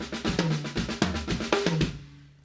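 A sequenced drum pattern squeezed into a single bar, with quick, dense hits and tonal punches on a steady pulse over about two seconds. It then trails off into a fading tail.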